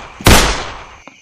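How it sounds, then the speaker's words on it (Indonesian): A single loud gunshot blast fires in a staged drug-dealer raid scene in a short film, with a broadband burst that decays over about a second, followed by a faint click. "Kamu semua saya tembak."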